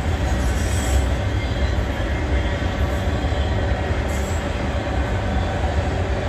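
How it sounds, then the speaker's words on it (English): A northbound autorack freight train rolls through Abbeville in a loud, continuous rumble of wheels on rail, with faint high squeals flaring briefly, close by and steady throughout. "Autoracks northbound, sorry about that"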